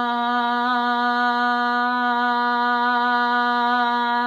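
A voiced, sustained tone on a long yoga exhale, a steady unbroken hum-like vowel held for several seconds, close and even in level with no other sounds.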